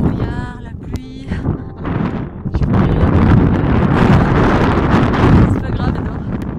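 Strong wind buffets the microphone on a foggy, rainy mountain climb on skis, a steady roar that swells and stays loud after the first seconds, with a voice speaking briefly near the start.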